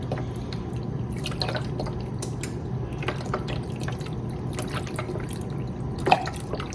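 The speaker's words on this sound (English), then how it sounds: "So I'm going to very carefully pour this in so it doesn't spit or sputter anywhere." Chicken broth from a 32-ounce carton poured carefully into a soup pot for collard green soup, a steady liquid trickle with scattered drips and splashes throughout, fairly quiet and heard alone without talk.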